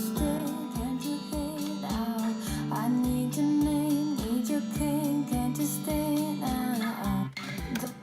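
A person hums a wordless melody for an album demo, sung straight with no microphone, the tonal line gliding over a steady thumping beat for about eight seconds.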